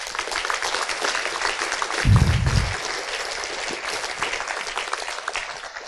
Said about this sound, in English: give a round of applause to Andreas for sharing.